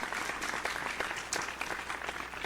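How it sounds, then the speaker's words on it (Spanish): A church congregation clapping during a Spanish-language service, a moderately loud spread of many hands with uneven claps over a couple of seconds. "Demos un aplauso al Señor"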